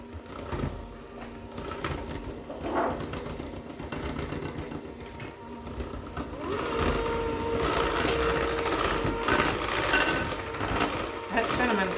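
An electric mixer whirs steadily through coffee cake batter, its buzzing drone growing louder and denser partway through while a person talks over it.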